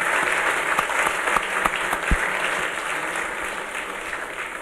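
Steady applause from a conference audience, a dense wash of many hands clapping at an even level throughout, with a few sharper individual claps standing out.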